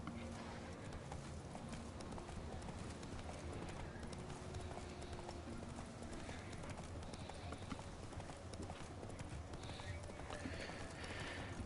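Hoofbeats of Roach, the horse in The Witcher 3, clip-clop steadily at a gallop throughout, loud and continuous, with a brief whinny and game ambience underneath.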